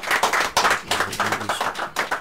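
An audience claps for an elder at a gathering, a steady patter of many hands with rhythmic bursts swelling and easing throughout, fairly close and loud.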